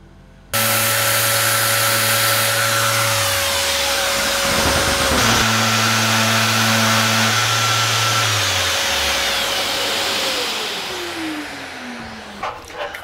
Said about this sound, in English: And there's also a little metal rivet inside, and I have to remove also this rivet.